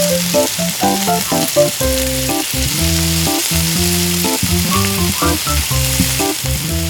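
Tiny shrimp balls sizzle steadily in hot cooking oil in a miniature pan, a loud, continuous crackling fry heard close up over faint clinks, with no talking.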